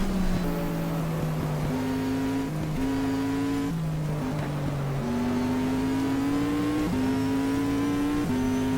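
Race car engines roar in GTR2 at Cleveland, several cars heard at once with pitches climbing through the gears and dropping at each upshift, loud and continuous and with no talk.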